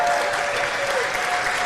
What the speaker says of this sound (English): She gets a nice round of applause from the Breckenridge fans.